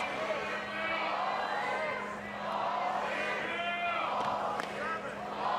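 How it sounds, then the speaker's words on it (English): A college softball crowd at Texas A&M chants the ball count in unison, a broad swelling roar of many voices rising and falling in waves through the stadium, with a commentator talking over it. "You can hear them chanting out ball 5, ball 4, ball 6"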